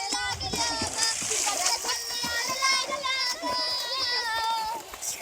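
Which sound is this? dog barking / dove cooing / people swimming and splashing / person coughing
people swimming and splashing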